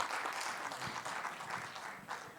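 Enthusiastic applause from an audience at a literature festival in Mussoorie, a continuous crackle of many hands clapping, fairly quiet and distant throughout.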